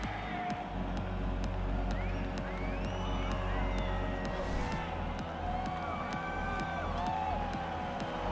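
A sold-out arena crowd in the EA Sports UFC video game roars in a continuous, distant wash of cheering and whoops before a flyweight championship fight, with a commentator's voice running over it.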